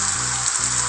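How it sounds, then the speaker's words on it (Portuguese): Steady hissing rain patters over a low droning tone in the Roblox game Bloxburg, a continuous wash of noise throughout. "Uma chuva mesmo."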